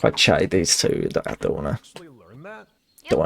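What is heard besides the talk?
No distinct noise like a dog, phone or traffic.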